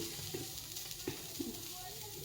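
Curry leaves and garlic fry in hot oil, giving a soft, quiet sizzle with a few brief crackling pops over a short stretch.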